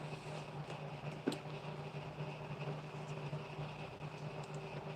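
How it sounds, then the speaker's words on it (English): A faint, steady mechanical hum with a low drone runs throughout from a distant air compressor, with one brief knock partway through. "Sorry about the compressor noise there."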